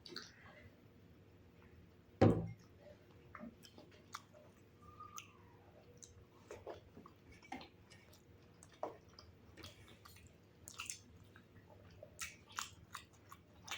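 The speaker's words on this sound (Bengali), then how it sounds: "তাড়াতাড়ি খাচ্ছে, মনে হচ্ছে 2 মিনিটেই খেয়ে নেবে।" Boiled eggs being eaten quickly in an egg eating challenge, with soft close chewing and biting, small clicks and one sharp bump early on, quiet and steady with no talk.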